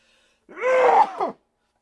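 A single loud, close sneeze, preceded by a short inhaled gasp, in an otherwise quiet room.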